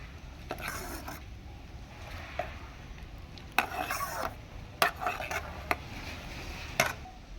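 A spoon scrapes and clinks in a bowl while papaya soap ingredients are mixed, in short irregular strokes over a low background hum.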